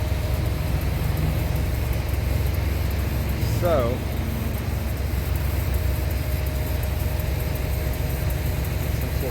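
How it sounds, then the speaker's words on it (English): Trucks idle on both sides at a Georgia truck stop, a constant low engine drone and hum that fills the background while someone talks over it and a brief squeal rises midway. "They got trucks running on both sides of me."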